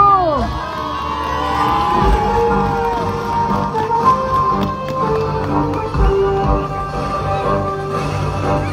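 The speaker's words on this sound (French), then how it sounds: "Un français que vous allez applaudir maintenant." Crowd cheering and whooping at the start of a sled-dog race stage in La Chapelle-d'Abondance, steady and loud throughout, with a voice over a loudspeaker and scattered shouts mixed in.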